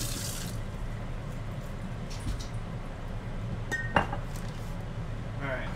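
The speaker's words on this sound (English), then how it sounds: "Let me just rinse that." Water runs steadily from a kitchen tap while something is rinsed in the sink, a continuous close hiss broken by a few light clinks of glass or dishes.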